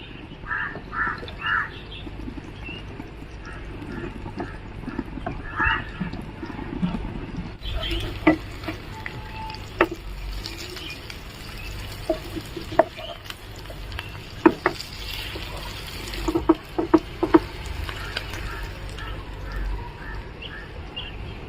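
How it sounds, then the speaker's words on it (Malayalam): Cabbage pieces fry in a pan for a cabbage gravy, a soft, quiet sizzle broken by occasional scraping and clinks of a spatula, with faint bird calls in the background. "ഇതൊന്ന് നമുക്കൊന്ന് വറുത്തെടുക്കണം"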